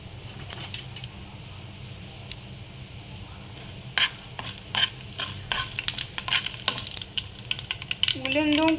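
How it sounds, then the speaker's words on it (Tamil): Mustard seeds and urad dal splutter in hot sesame oil, with sharp irregular pops and crackles starting faintly, then thickening into a busy sizzling burst, ending with a brief clatter of a pan or utensil. "உளுந்தும் கடுகும் பொரிஞ்சிருச்சு"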